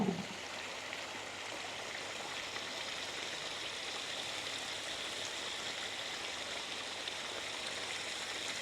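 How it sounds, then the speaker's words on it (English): A continuous rush of water splashes steadily from a small garden pond waterfall, close and even throughout, with no voices. "It's a nice waterfall here."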